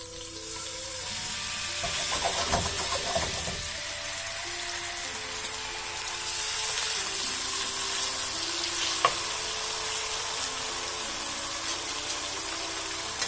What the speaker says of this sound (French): on va faire revenir nos morceaux de poulet